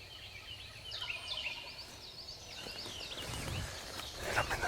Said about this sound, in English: I was working my way towards that bird gobbling